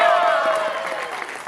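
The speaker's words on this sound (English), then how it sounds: "Everybody should be clapping now, damn it!" An audience claps loudly at a university graduation show, a dense burst of applause with a few cheering voices at the start that gradually thins out.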